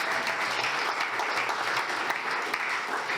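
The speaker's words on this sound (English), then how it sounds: "give a big rousing applause for Dr. Claire Panagata." Steady, dense applause from a large audience at an evening health talk as a speaker is welcomed to the stage, loud and continuous with no voices over it.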